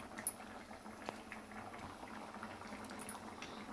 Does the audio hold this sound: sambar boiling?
yes